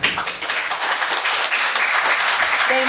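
Applause from an audience at a school committee meeting, a dense burst of many hands clapping, loud and close, holding steady for about three seconds.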